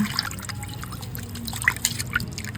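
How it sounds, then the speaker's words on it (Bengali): Rohu fish being rinsed under running water in a kitchen while preparing a light Bengali fish curry, with steady trickling and dripping water and small splashes from handling, close and moderately loud, with no talk. "এই রুই মাছটা ভালো করে আমি ধুয়ে নিচ্ছি"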